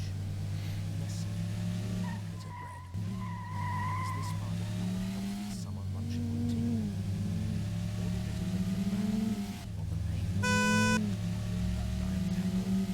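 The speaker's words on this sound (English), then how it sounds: "That's what the Eclipse horn sounds like." A Mitsubishi Eclipse in the Dreamcast racing game Metropolis Street Racer gives a brief, tonal horn honk near the end, over continuous engine drone and tire squeal.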